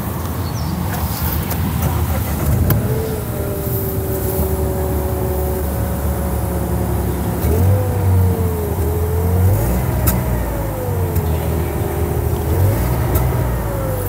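2020 Nissan Micra engine running steadily and revved several times, the pitch climbing and falling with each blip, loud and close with no talk over it.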